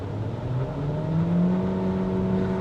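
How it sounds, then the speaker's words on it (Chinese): A Proton eMas 7 PHEV's engine rises steadily in pitch as it revs under acceleration, heard from inside the cabin as a continuous hum that climbs and holds. "油门先踩下去，因为它毕竟还要让这个引擎先反应一下。"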